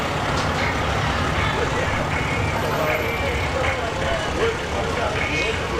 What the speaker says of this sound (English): We see fire trucks.